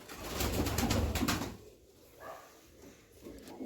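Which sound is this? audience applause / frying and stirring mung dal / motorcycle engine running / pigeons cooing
pigeons cooing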